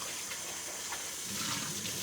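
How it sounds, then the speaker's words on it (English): Cold water running steadily from a kitchen tap into a container, a continuous hissing splash that thickens slightly as the container fills. "So I'm going to fill this up with some cold water."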